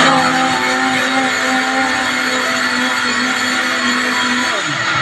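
A kitchen blender whirs steadily and loudly, blending pandan cake batter with evaporated milk, a continuous motor drone with a bright harmonic whine that holds throughout and cuts off abruptly at the very end.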